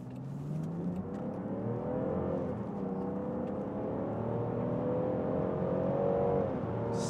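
A Land Rover Defender 90 First Edition two-door SUV accelerating from about 11 mph, its mid-pitched engine note rising steadily and staying loud and close throughout, with no talking.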